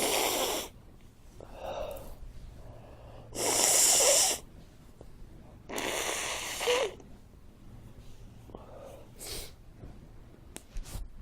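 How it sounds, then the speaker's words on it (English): Several close, forceful nose blows in short bursts, with quieter snuffling and breathing between them. "I gotta blow my nose again."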